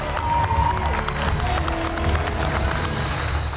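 Former contestants cheer and applaud at a cooking competition finale, a dense, steady wash of clapping and crowd noise with excited shouts, loud and sustained throughout.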